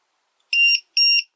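Powerwall Mini battery monitor alarm giving two sharp, high electronic beeps of roughly a quarter second each, evenly spaced, loud and clean against near silence.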